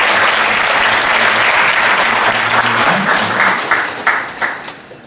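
A church congregation applauds its choir and accompanists after a worship song: loud, dense clapping from a full room that thins out toward the end into a few scattered final claps.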